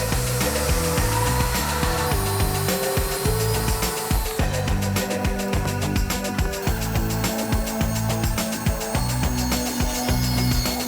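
A power saw cuts a workbench top panel to width, a loud, steady, dense machine roar running without a break from start to finish.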